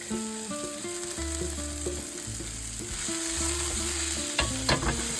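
Garlic sautés in a pan for ginisang kalabasa, a steady soft sizzle with a few stirring scrapes near the end, largely buried beneath a continuous melodic music bed.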